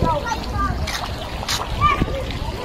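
Water is splashed by hand while someone washes their face outdoors, brief close splashes and drips over soft background noise with a voice speaking nearby.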